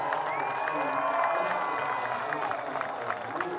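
A crowd of convoy protestors cheers and whoops in a sustained, loud wash of voices, with scattered shouts rising above the mass for several seconds.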